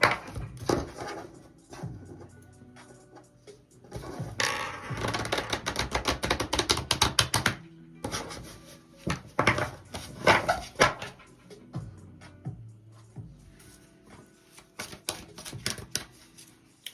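Rapid flurries of crisp card riffles and slaps, close up, coming in bursts with brief pauses between them.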